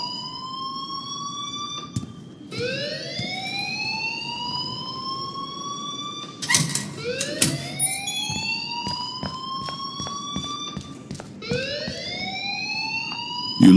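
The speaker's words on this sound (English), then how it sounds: "please turn off that alarm since that's your job" Electronic fire alarm in the Life is Strange video game, a looping rising tone that sweeps upward over and over, loud and steady, with a rumbling room bed and a brief clatter partway through.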